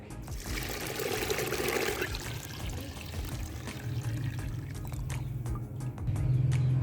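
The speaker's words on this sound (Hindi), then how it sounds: "अब मैं इसमें ये जो पीस स्टॉक था जिसमें मैंने इनको बॉईल किया था, ये वो पानी मैं इसमें सारा शामिल कर रहा हूँ।" Stock water from boiled peas is poured into a pot of curry, a steady splashing trickle that swells and eases, heard up close and continuing for several seconds with no talk.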